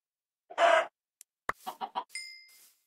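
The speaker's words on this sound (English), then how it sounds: "Another chicken!" A chicken in the Minecraft video game clucks in a short run of quick, clipped game-sound blips, preceded by a brief louder burst and followed by a faint ringing tone.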